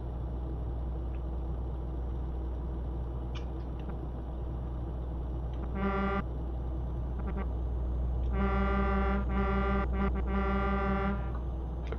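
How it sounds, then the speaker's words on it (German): Truck horn in Euro Truck Simulator 2, sounding in a short blast and then a longer run of several honks over a steady engine drone, with no talking. "Ich glaube, der Schalter von meiner Hupe hat auch eine Macke."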